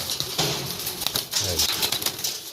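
A pigeon in a loft coos softly with low, throaty murmurs. The calls sit close against a noisy, hissing background.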